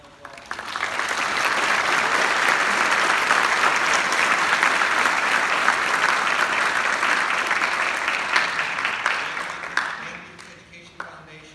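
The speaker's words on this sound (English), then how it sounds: "Please give them a round of applause." Sustained applause from a concert audience for the volunteer board at a community band performance, steady and full for about ten seconds before tapering off with a few scattered claps.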